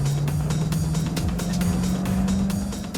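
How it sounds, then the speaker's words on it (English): Two cars rev their engines hard while reversing uphill on a test track, a steady loud engine drone with rising pitch and repeated revving surges throughout. "With both drivers now revving in reverse"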